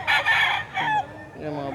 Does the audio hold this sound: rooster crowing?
yes